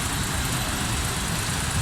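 A Suzuki Cultus three-cylinder car engine fitted with a Chinese carburetor runs continuously at idle, a steady close rumble with a slightly uneven throb, heard alone without talking.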